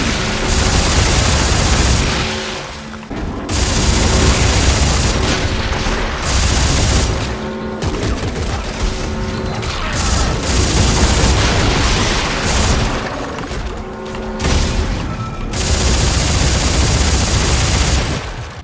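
Rapid, sustained gunfire from a 55-round weapon in Dead Space 3, loud and close, with booming bursts and explosions in several long volleys broken by brief pauses, no talking.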